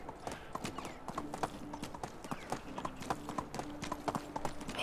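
In the medieval game Medieval Dynasty, a donkey's hooves clip-clop in a quick, steady rhythm as it runs off, moderately loud and continuous, with a faint melodic tone in the background.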